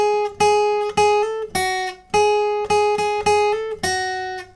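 Guitar with a capo picks a riff, about eight clear plucked notes that ring and decay one after another, alone and fairly loud.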